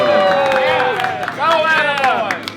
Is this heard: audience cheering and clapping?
yes